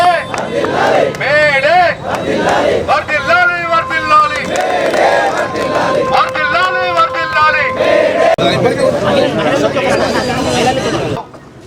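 Municipal workers in Karimnagar chant slogans together at a May Day labour flag hoisting: a loud, continuous chorus of many voices rising and falling in rhythmic shouts.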